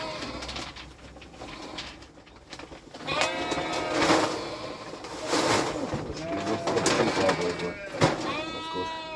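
Sheep bleat intermittently at a farm, several calls close by, mixed with birds cooing and a voice talking over them.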